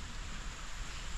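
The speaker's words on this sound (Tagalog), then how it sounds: "Ayan, umuulan na naman." Rain falling steadily during a trip toward Puerto Princesa, a soft, even hiss of rain with no talk.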